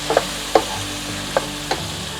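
Tomatoes frying in a pan for butter chicken, a steady close sizzle with a few sharp spoon taps and scrapes, no talk.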